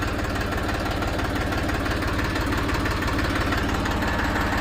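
An Eicher 380 tractor diesel engine idles with its rotavator switched off, a steady, even low thrum with a fast regular pulse, close and continuous throughout with no voices.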